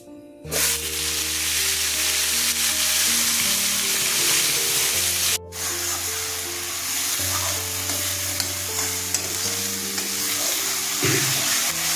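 A paste of onion, ginger, garlic, green chili and tomato hits hot oil with a sudden loud burst, then fries in a dense, continuous sizzle. A low, shifting tonal background runs underneath throughout.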